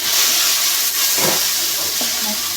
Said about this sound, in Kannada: ಟೊಮೆಟೊ ಒಂದೇ ಹಾಕೋತೇನೆ ಟೊಮೆಟೊನು ಫ್ರೈ ಆಗವು